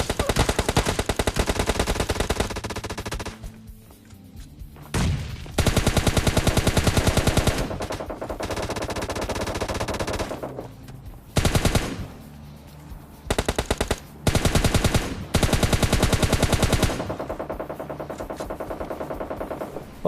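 Video game gunfire during a PUBG fight near an apartment: rapid automatic bursts and repeated shots in dense, loud volleys broken by brief gaps.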